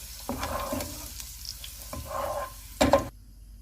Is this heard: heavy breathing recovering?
no